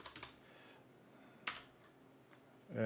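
A computer keyboard is typed on in a few short bursts while writing code: a quick cluster of keystrokes, a single sharp click midway, and a louder flurry at the end, in a quiet room with no talking.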